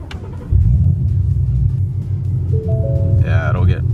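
A car engine cranks and catches after a fuel change and a new tune, then settles into a loud, low, rough idle up close, and a voice speaks briefly near the end.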